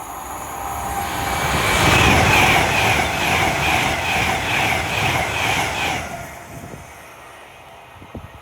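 A Class 390 Pendolino train passes Polesworth station with a loud, swelling rush and a rhythmic clatter of wheels, then quickly fades to quiet.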